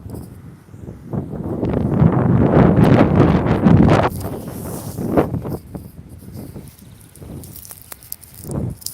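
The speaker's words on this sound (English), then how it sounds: "It's really windy" Strong wind buffets the microphone in heavy, roaring gusts near a fountain, loudest early on, then easing into lighter rumbling bursts.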